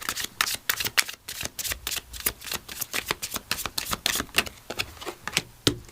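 Oracle of Metatron cards shuffled by hand for a tarot reading, heard as a quick, steady run of crisp riffling snaps and flutters, close and continuous, with no talking.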